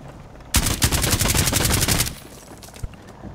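A sudden loud burst of rapid automatic gunfire from Rainbow Six Siege lasts about a second and a half, then drops to quiet background with one faint later shot.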